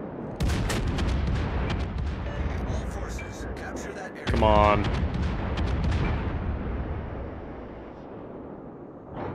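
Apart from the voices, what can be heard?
Yamato battleship main guns firing AP shells in video game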